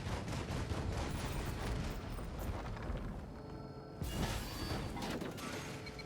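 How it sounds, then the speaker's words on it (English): A deployed turret in the Risk of Rain 2 video game fires in a dense, continuous stream of shots mixed with mechanical game effects, loud throughout, with a brief dip before a sharp burst near the end. "I'm going to drop that turret behind me."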